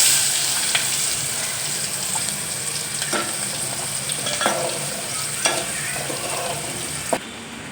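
Chopped onion sizzles and hisses steadily in hot oil while frying for a Gujarati dhokli shak, with a few sharp clinks of a spoon stirring the pan at close range.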